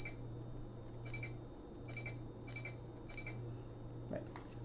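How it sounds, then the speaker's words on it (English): A Jyukou B-Fighter Black Commander toy beeps because nothing is plugged in, giving four or five short, high electronic beeps in a steady rhythm over a low hum, followed by a faint click. "instead of having a voice clip tell you something when you don't have something plugged in up here, instead it just beeps at you."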